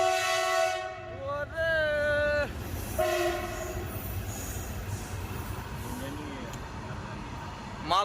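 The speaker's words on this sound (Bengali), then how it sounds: "মালগাড়ির ট্রেন চলে গেল" A freight train rolls past on the railway with a loud horn blast and squealing wheels early on, then a continuous rumble of wagons clattering by at close range.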